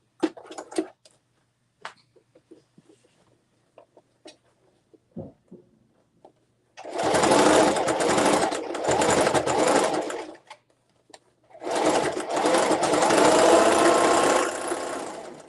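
Sewing machine stitching a zipper tote bag: long, loud, steady runs of rapid needle whirring, stopping in between, with quiet handling clicks and rustling in the pauses.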